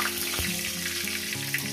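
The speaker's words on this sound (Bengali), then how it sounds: "গোটা জিরে দিয়ে দিলাম।" Whole cumin seeds fry in goat fat oil in a pan, giving a steady close sizzle and crackle throughout with a few soft knocks.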